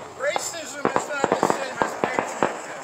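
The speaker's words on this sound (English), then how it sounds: "You hear the fireworks?" Outdoor fireworks go off in a rapid string of sharp cracks and pops, about a dozen bursts in under three seconds, with voices underneath.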